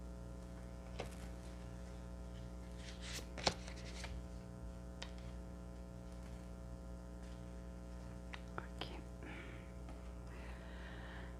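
Tarot cards are shuffled and drawn in a quiet room: soft, scattered riffles, flicks and light taps, faint and intermittent, over a constant low electrical hum.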